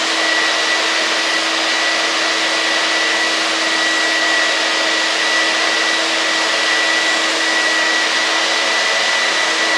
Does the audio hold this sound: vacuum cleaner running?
yes